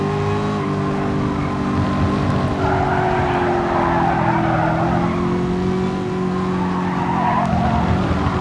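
A race car in Gran Turismo Sport at the Autopolis circuit brakes late, tires squealing and skidding continuously over the loud droning engine, with a pitch shift as the car scrubs speed into the corner.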